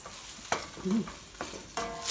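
A spoon scrapes and stirs bulgur roasting dry in a pot with a soft dry sizzle, a few sharper clacks at intervals, close and fairly quiet.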